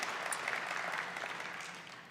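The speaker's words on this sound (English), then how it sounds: "Could we have another round of applause for AJ?" Steady audience applause fills a school curriculum honors ceremony, a dense even clatter of many hands clapping that holds throughout and tapers slightly at the end.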